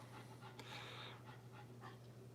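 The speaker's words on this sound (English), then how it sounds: "I think that's why he's panting too." A dog pants steadily in quick, soft breaths close by, with a faint low electrical hum running underneath.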